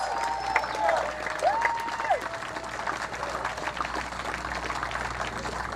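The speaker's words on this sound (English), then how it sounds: "Give them applause" Steady applause from a speech audience, dense clapping filling the whole stretch, with a few whistles rising and falling early on.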